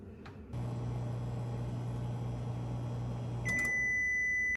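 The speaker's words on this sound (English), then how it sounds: "I'm going to microwave it for 45 seconds, like the instructions on the back said" A microwave oven runs with a steady low hum for about three seconds while heating a yak chew dog treat, then finishes with a loud, sustained high beep; no voices are present.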